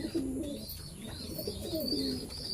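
Pigeons at a pigeon market where birds and young pigeons are sold coo steadily and overlap one another, with occasional higher chirps woven through the soft, continuous chorus.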